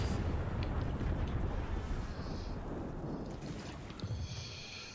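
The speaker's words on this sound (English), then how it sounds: "Come in, destroy the reactor." A reactor exploding in the video game Warframe gives a sustained, rumbling blast that gradually fades, with dense low roar and crackling debris, heard fairly quietly and without talk.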